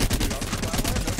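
Repeated single-fire gunshots in the video game Apex Legends, a fast steady series of evenly spaced loud cracks filling the moment.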